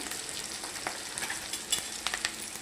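Curry leaves and turmeric fry in oil for a cabbage curry, a quiet, steady sizzle with scattered pops and light stirring scrapes close by.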